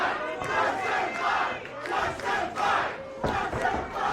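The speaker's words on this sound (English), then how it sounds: "Ethan Price gets the big ovation from the crowd." Pro wrestling crowd gives a big ovation, a dense, sustained roar of cheering and shouting from a large indoor audience, loud and continuous with surging swells.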